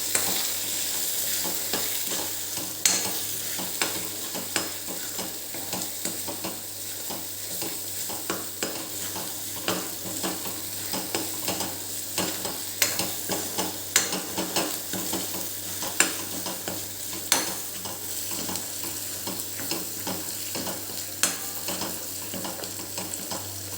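A spoon scrapes and stirs garam masala and spices in a pan for paneer kadai, with soft sizzling underneath, irregular clinks and scrapes repeating steadily for a long stretch, no voices.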